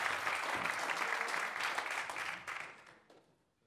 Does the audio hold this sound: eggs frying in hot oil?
no